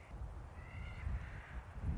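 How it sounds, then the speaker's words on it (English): Birds, likely crows, give a couple of faint calls along a mountain trail over a low outdoor rumble that carries through the whole stretch. "I wonder what those birds were."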